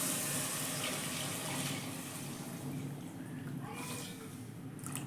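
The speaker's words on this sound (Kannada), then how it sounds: "ನೀರು ಹಾಕೋತಾ ಇದ್ದೀನಿ." Water is poured steadily into a pot for chicken biryani, a continuous close splashing rush lasting the whole stretch with faint talk in the background.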